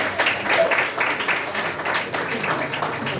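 Audience applause at a French-language comedy show, a steady wash of clapping filling the clip at close range, with voices mixed in under it.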